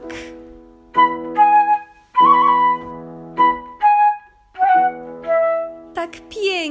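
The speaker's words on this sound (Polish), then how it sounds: "Ich ptasi duet na zmianę brzmiał tak." Two birds, a cuckoo and a nightingale, sing in an alternating duet, short tonal phrases trading back and forth in a steady call-and-answer pattern, clear and close with no talking.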